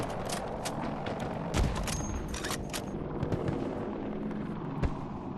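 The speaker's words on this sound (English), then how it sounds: "this is a great gun to use, sniper gun, to destroy the vehicle" NTW-30 sniper rifle firing at a vehicle in Battlefield 2042, with loud, sharp reports around the start and near the end over a constant roar of game battle noise, explosions and machinery.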